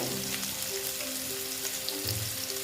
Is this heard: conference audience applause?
no